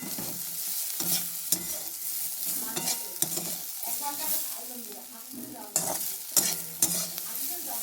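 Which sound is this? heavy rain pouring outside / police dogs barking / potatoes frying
potatoes frying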